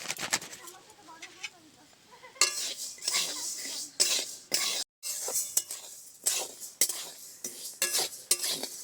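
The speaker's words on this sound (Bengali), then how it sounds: "সম্পূর্ণ সাবুটা দিয়ে দেবো, দিয়ে সাবুটা হালকা নেড়ে চেড়ে ভেজে নেব" Sago pearls roasting dry in a hot wok, stirred and tossed in bursts of scraping and rattling against the metal, starting quiet and growing busier, with a brief dropout midway.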